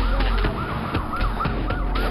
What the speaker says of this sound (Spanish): Ahí se escuchan las sirenas de la policía.